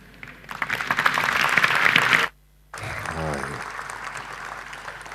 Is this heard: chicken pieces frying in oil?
no